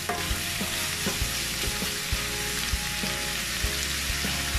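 Liver, shrimp and squid are stir-fried for chop suey. Steady sizzling fills the pan while a utensil stirs and scrapes in regular soft knocks, close and continuous with no talking.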